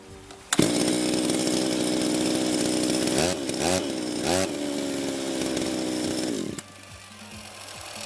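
A small two-stroke brush cutter engine starts with a sharp burst, then runs at a steady high whine with a couple of brief throttle blips before cutting down to idle.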